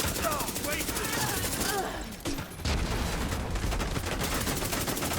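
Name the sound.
automatic gunfire in a video game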